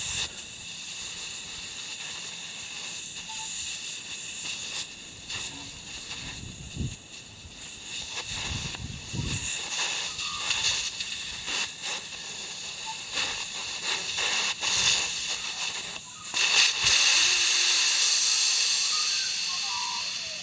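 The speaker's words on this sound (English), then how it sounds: "Now we've got the air coming out." Air hisses steadily out of a tire valve, a continuous bright hiss that holds for the whole stretch with small shifts and swells louder near the end.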